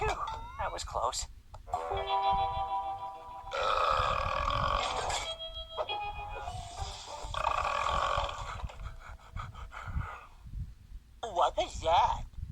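Aldo the cartoon alligator lets out long, loud, gravelly burps one after another, with animated character voices talking between them.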